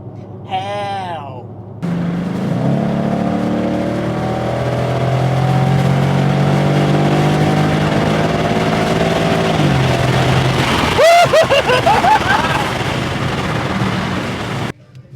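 An LS V8-swapped BMW E46 engine revs up and holds a rising, droning pull for several seconds, then drops off, followed by a brief burst of higher-pitched noise and steady road rumble.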